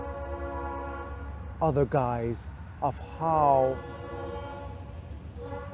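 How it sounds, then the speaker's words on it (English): A train passes with a long, steady horn blast held under the whole stretch while someone talks over it. "that's the train passing by"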